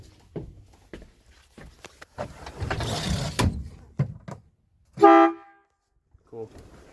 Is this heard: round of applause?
no